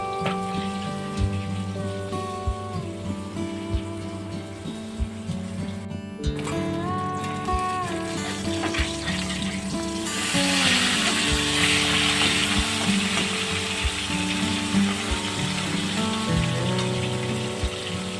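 Fish fries in a pan for a ridge gourd and potato fish curry, a continuous rain-like crackling sizzle heard beneath steady tonal music.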